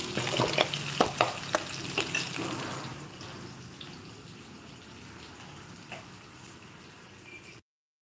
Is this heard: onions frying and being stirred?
yes